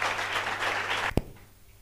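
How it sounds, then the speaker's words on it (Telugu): An audience claps together at a church ministry's silver jubilee success meeting, a dense, fairly loud patter of applause that stops abruptly with a single sharp knock. "చప్పట్లు కొట్టి అభినందించండి."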